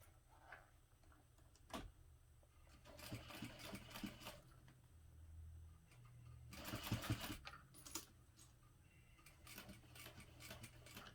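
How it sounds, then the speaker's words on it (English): A sewing machine stitches in short bursts, its rapid mechanical chatter starting and stopping, with one longer run in the middle. "just go ahead and back stitch a few stitches again"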